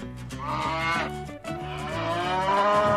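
A black cow with horns lowing on a farm, one long, loud, deep moo held for a few seconds with a brief break, close by and with no talk over it.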